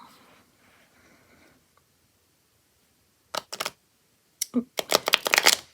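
Stiff Tempest Tarot cards being shuffled by hand in close, rapid riffling bursts after a quiet start, growing denser toward the end.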